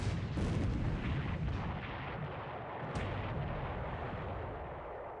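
Naval gunfire in the War in the Pacific video game, destroyers trading shots with a heavy rumbling artillery boom at the start and another near three seconds, over a continuous low roaring background.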